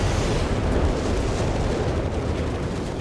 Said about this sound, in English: Huge rockets there, striking into the Panzergrenadiers, the Panzer III, the Panzerjägers